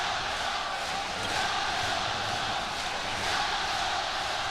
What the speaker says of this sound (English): as the crowd chants China